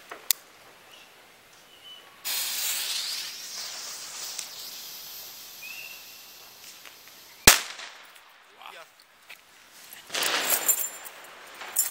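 Weco Chinese firecrackers (China-Böller) go off outdoors as a sharp crackling burst around two seconds in, then a loud single bang and a later crackling flurry, with quieter hiss and rustle between.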